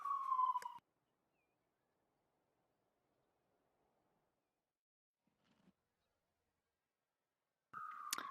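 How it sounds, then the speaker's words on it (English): An ambulance siren passing below a city window wails loudly in two short bursts at the start and end, with near silence and a faint low rumble between. "there's an ambulance passing directly underneath my window"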